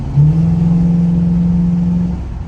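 A stock 454 big-block V8 car engine on a highway roars and accelerates with a deep, steady drone, loud and close, for about two seconds.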